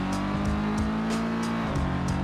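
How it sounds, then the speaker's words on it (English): A 2.5-liter boxster-style car engine in the BeamNG driving game drones steadily at a sustained high rev, with faint periodic swells and shifts, loud and close, no talk. "but just listen to the engine."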